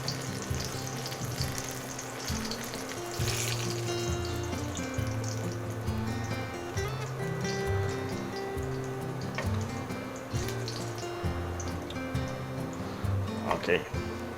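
Slices of eggplant sizzle steadily in hot oil in a home kitchen, a continuous crackling fry with occasional louder pops, heard close and alone without talk.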